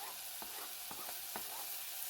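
Onions, cabbage and bacon sauté in a hot pan with a steady, even sizzle, broken by a few sharp scrapes and stirs of a utensil against the metal, all close and without any voices.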